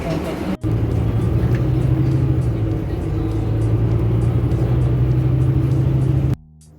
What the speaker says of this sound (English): we have to take the bus to our departure gate